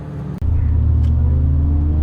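A BMW E30 M3 Sport Evo engine holds a steady, loud idle-to-rev drone after a brief cut, a deep continuous rumble with no talk.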